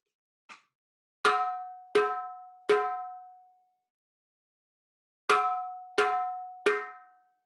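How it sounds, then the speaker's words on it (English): Samba call on a drum, three long ringing notes, heard as a bright metallic strike followed by two groups of three resonant, evenly spaced tones with a pause between, near and alone. "I'll demonstrate my part, the calls, on this drum."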